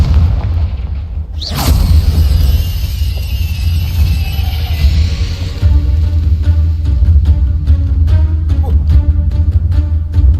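A Confringo explosion spell in the video game Hogwarts Legacy, a sudden loud blast that swells into a heavy rumbling boom with crackling debris, close and alone.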